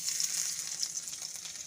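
Chopped garlic sizzles in hot oil for a Bengali spicy brinjal curry gravy, a steady bright crackle holding at an even level throughout with no voices.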